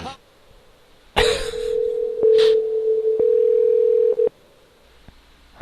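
Phone call tone ringing steadily in a long continuous burst, alone and fairly loud, beginning abruptly after a short pause and ending just as suddenly, with a brief cough-like noise at its start.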